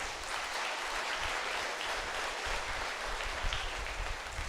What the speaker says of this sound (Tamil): அதற்காகவே இன்னொரு கைத்தட்டு பெருசா கொடுக்கலாம்.